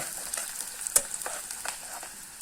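Onions fry in a pan for a Gujarati tandalja bhaji, a steady close sizzle with small crackles and a few sharper stirring clicks, with no voices over it.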